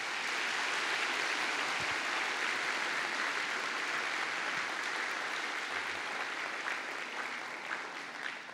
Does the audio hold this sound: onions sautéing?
no